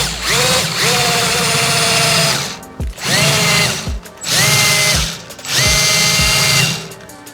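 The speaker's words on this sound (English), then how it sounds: "I think this drill has seen better days," A worn power drill drilling into a 50-gallon barrel whines in four long bursts, each winding up and running steadily before stopping with a brief pause between them.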